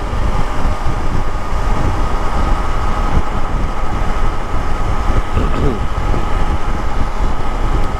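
A Triumph Tiger Sport 660 motorcycle cruising at 80 km/h on a road, with steady, loud engine drone and rushing wind filling the whole stretch without letting up.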